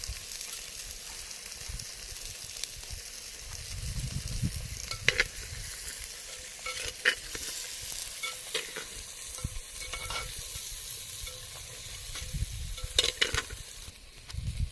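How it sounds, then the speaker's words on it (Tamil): Brinjal sizzles steadily in a pan with salt and tamarind while being sautéed, a continuous frying hiss broken by scraping stirs and occasional clinks of the spoon. "இது எல்லாம் சேர்த்து நல்லா வதக்கிட்டு"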